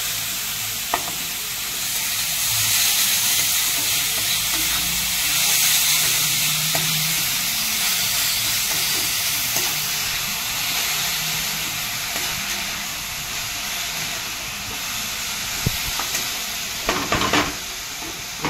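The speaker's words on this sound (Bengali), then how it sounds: "এবার আমি নেড়ে চাপা দিয়ে দেবো।" Beetroot with salt is stirred in a hot pan, giving a loud, continuous sizzle with scraping stirs throughout and a cluster of clattering utensil knocks near the end; there is no talk.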